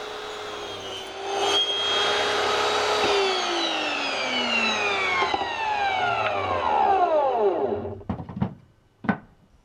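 Power saw cutting pallet wood with embedded nails and screws: a loud, close, sustained whine whose pitch sweeps downward under load for several seconds, then winds down into a few short bursts before stopping.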